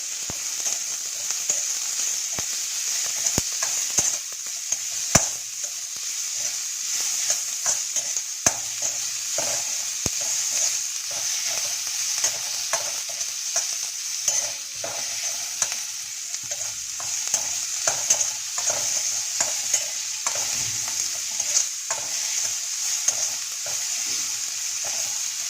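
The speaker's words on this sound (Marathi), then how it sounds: "आलं पेस्ट, हिंगपूड, मिरची, कांदा आणि कांदा थोडा परतूया" Onion sautéing with garlic, ginger paste, asafoetida and green chili in a kadhai, giving a continuous soft fry hiss. Repeated sharp scrapes and taps of a spatula stirring the pan break through at irregular intervals, with no talking.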